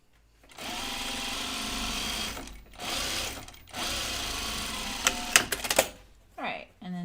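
A sewing machine stitches a seam on a fabric pocket in several sustained bursts with short pauses between, ending in a cluster of sharp clicks and handling noises.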